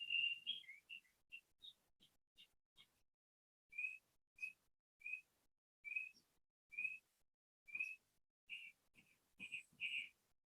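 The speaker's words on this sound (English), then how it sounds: "Hopefully that bird is still serenading everybody." A bird sings in a backyard, repeating short bright whistled chirps in a steady series of separate phrases, moderately near and alone with no talking.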